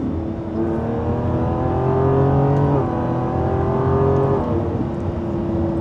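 A Lamborghini 6.5-litre naturally aspirated V12 engine revs steadily, its rising and falling harmonic whine loud and close, with no talking.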